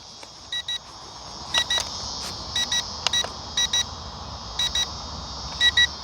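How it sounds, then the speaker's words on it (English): An XK A280 560mm RC plane sits beeping after a quick landing with a possible lost signal or low battery: short paired high electronic beeps repeating at steady intervals, moderately loud over a faint hiss, no talk. "It's still beeping at me."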